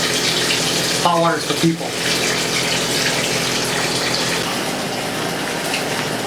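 Cold tap water gushes steadily into a bathtub, a broad continuous wash of running water throughout, briefly under a man's short spoken remark near the start.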